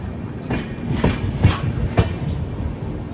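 The 58501 Kirandul passenger train runs on rails between Visakhapatnam and Araku, giving a steady rumble with a regular clickety-clack of wheels over rail joints about every half second. No one speaks.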